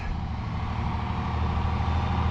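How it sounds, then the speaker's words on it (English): A big lorry rumbles past on a mountain road in Morocco's Atlas Mountains, a steady, loud, close engine drone that holds for the whole stretch with no voices over it. "Big lorry coming past."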